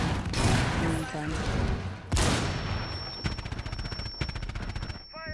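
Machine gun fire rattles in a video game match, loud close bursts of rapid shots, one long continuous stream and a sharp blast, with a high ringing tone after, while players talk over it.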